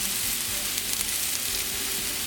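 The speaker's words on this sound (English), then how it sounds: "Okay, hear that sizzle?" Lamb meatballs sear in hot olive oil in a pan, giving a loud, steady sizzle and crackle that runs without a break, close up and with no talking over it.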